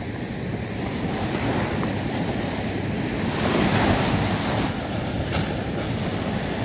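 Big ocean waves churn and wash in a continuous roar under gusting wind buffeting the microphone, swelling briefly louder midway.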